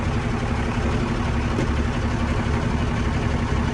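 A truck engine idles at a steady, continuous rumble during a CDL pre-trip inspection, loud and even with no talking.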